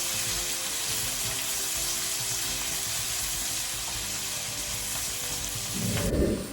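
Onions and green chilies sautéing in a pan give a constant close sizzle and hiss that swells briefly near the end as they are stirred, with no talking.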